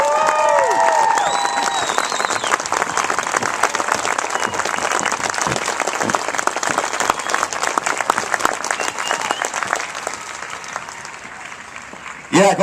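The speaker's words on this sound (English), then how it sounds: "Let's give them all one more round of applause" Sustained applause and cheering from a crowd honoring new Air Force enlistees at an oath of enlistment ceremony, dense clapping throughout with a few voices rising above it, fading slightly near the end.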